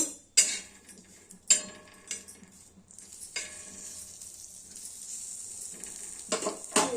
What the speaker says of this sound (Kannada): ನಾನು ಒಂದು ಸ್ವಲ್ಪ ತುಪ್ಪ ಹಾಕಿ ಲೋ ಫ್ಲೇಮ್ದಾಗ ಇಟ್ಟು